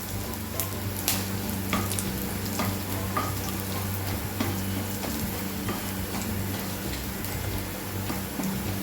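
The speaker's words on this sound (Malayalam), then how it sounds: "ഉള്ളിയൊക്കെ ഒന്ന് ബ്രൗൺ കളറാവണം. മുളക് ഫ്രൈ ആവണം." Onions and chillies fry in a pan with a continuous, moderate sizzle and crackle, broken by light, occasional stirring taps.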